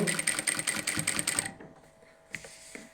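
A sewing machine stitches pleats on a round-neck button nighty in a fast steady whirr for about a second and a half, then stops, leaving a couple of faint clicks and handling sounds.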